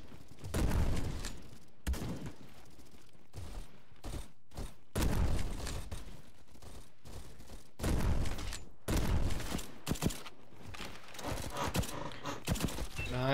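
Shotgun shots in a video game, several loud sharp blasts spaced unevenly with silent gaps between, each followed by a brief rumbling tail, plus some quieter clatter near the end.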